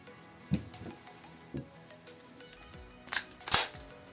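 Grenades are loaded into an M203MT airsoft grenade launcher close up, making a sequence of sharp plastic and metal clicks and clacks. Three lighter taps come first, then two louder snapping clunks, all against quiet surroundings.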